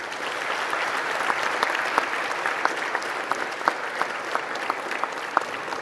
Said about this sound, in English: Give a rousing round of applause.